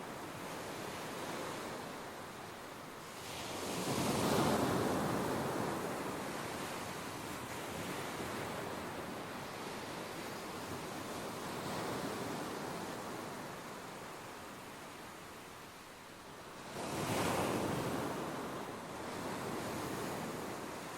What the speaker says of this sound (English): The flowing tide is washing the waves higher now